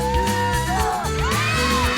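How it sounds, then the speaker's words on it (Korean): A group of walkers on a five-day charity pilgrimage bursts into loud whoops and joyful yells on reaching their destination, voices overlapping and sustained close by. "기쁨과 감동의 함성이 절로 나오는데요"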